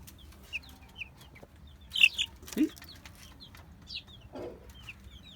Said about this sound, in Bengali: এখানে একটা বয়লার মুরগির বাচ্চা বসে আছে